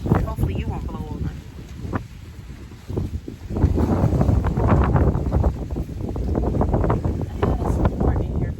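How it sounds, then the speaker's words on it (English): Strong wind batters the microphone in a garden, a loud, continuous low roar with repeated gusts and buffeting throughout. "this wind is terrible today."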